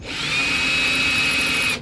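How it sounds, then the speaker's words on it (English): A power drill with a bit bores into steel, a steady high whine with a sustained tone lasting nearly two seconds, loud and close, starting and stopping abruptly with no speech. "I'm gonna try to drill through the top portion."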